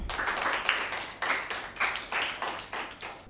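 Short bursts of audience clapping for a team at a Bible quiz in a girls' school, several rhythmic waves of hands swelling and fading in quick succession without talk.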